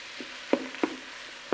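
Pork pieces browning in a pan for a southwestern stew, a soft sizzle under a few distinct clinks and taps of a utensil flipping the meat, quiet and close, no talking.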